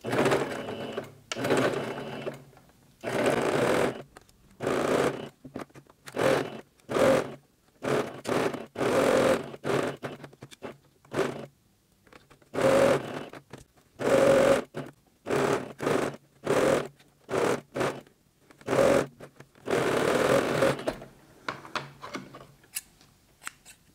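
Domestic sewing machine with a 0.75 presser foot stitching a pleated fabric face mask, running in repeated short bursts with brief pauses, starting and ending with reverse stitches, close and clear with no talking.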